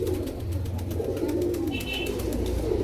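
Pigeons coo in low, repeated throaty calls at a pigeon market in Nitaiganj, Narayanganj, close and continuous amid steady background market noise.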